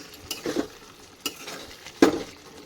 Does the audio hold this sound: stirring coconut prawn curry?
yes